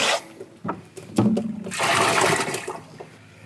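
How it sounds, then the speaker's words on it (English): A boat's live well pump fills a bait tank, with a few clunks and then a strong, rushing gush of water close by that swells and tapers off. "All right, live well's on, getting loaded."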